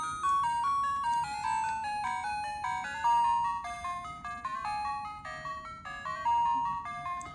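Music from an AtGames Arcade Gamer Portable handheld running Game Gear or Master System games with the volume at maximum: a continuous, bright, beeping chiptune melody of quick stepped notes, loud and close, with no talking.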